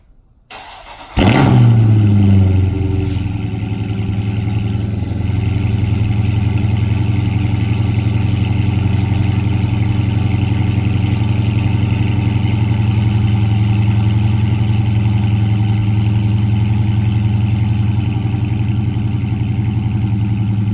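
Dodge Scat Pack / SRT with a cat-delete exhaust but stock valve, mid and rear mufflers cold-starts on a 39-degree day: a starter crank, a sharp loud flare, then a steady, deep, bassy high idle that continues alone.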